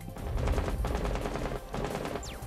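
Enemy gunfire in Rainbow Six Siege, a dense run of rapid automatic shots close by, rattling continuously for a couple of seconds with a brief dip near the middle.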